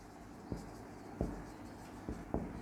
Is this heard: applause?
no